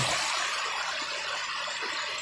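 River water at Pulunan River in Trece Martires, Cavite, rushing steadily as a broad, even hiss with no talk and no distinct splashes.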